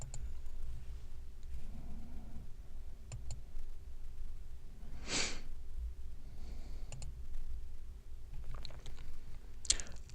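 A computer mouse clicked a few times, with faint small clicks and a couple of sharper, more distinct ones several seconds apart, close up over a low steady background hum with no talking.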